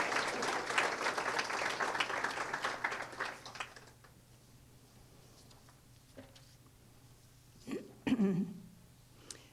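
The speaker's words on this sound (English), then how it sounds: "a round of applause." Audience at a town's State of the Town mayoral address clapping, a fairly dense round that fades out after about four seconds, followed by quiet room noise with a few coughs and throat sounds.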